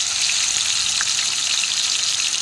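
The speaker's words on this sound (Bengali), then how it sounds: "তো সব মাংসগুলো আমি এখানে দিয়ে দিয়েছি। এরপর আমি এগুলোকে একটু ভেজে নেব।" Chicken meat fries in hot oil in a cooking pot, giving a loud, steady hiss and crackle with small pops throughout and no voices.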